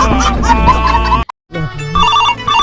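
A phone rings loudly and close, a steady electronic ringtone that breaks off briefly, then resumes, with a voice speaking over part of it.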